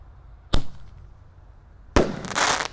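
Roman candle fireworks fire two sharp shots outdoors, the first a single crisp bang and the second a louder, sustained burst with crackling, heard alone with no talk.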